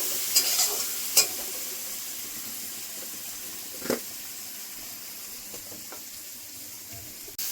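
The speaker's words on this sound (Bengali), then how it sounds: "মশলা ভেজে নিয়েছি, তেল বেরিয়ে গেছে" Turmeric and Kashmiri chili powder spices frying in oil for a Bengali egg curry, a soft steady sizzle with a few sharp clinks of a spoon stirring against the pan.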